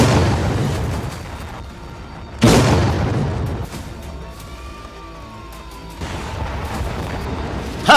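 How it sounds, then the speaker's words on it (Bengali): A series of explosions from news footage of a military conflict: a heavy boom rolls out and fades, then further blasts and rumbles follow, with a faint whistling tone between them. "ধারাবাহিক বিস্ফোরণে নাস্তানাবুদ পাকিস্তান"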